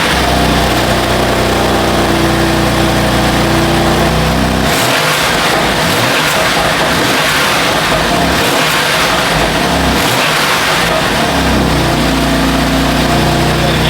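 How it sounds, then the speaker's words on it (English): BMW F81 M3 wagon engine with open cone air intakes, idling loudly, then revved hard in several sharp bursts before settling back to idle, close and alone. "I'm gonna actually start this up real quick, give you guys a few reps so you can hear it"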